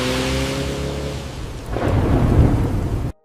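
A heavy thunderstorm rumbles over steady, dense rain. A low roll of thunder builds and swells midway while the downpour hisses throughout, loud and close, then cuts off abruptly.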